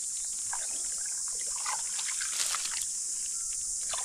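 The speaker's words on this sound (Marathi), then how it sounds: "आता खाली पाणी लागले." Faint trickling water seeps into a crab burrow being dug by hand in a wet streambed, under a steady high chorus of insects.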